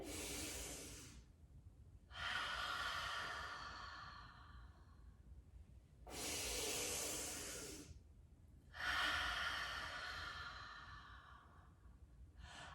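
Slow, deep ocean-style breathing exercise during a children's yoga session: four long, breathy exhales and inhales with a rushing, wave-like hiss, close and fairly soft, separated by brief quiet pauses, no talking.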